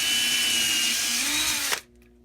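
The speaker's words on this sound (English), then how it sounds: "so let's pre-drill." A power drill whirs steadily as it pre-drills holes in wood, running continuously and close before abruptly stopping near the end, leaving quiet.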